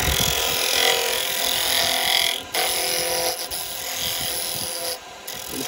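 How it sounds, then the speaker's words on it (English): Wood lathe spinning as a spindle gouge cuts a Christmas ornament, a steady close hiss of shaving wood that runs continuously with only brief dips where the tool lifts off. "We're going to do it with a spindle gouge"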